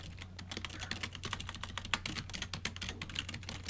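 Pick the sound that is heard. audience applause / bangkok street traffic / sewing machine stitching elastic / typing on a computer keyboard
typing on a computer keyboard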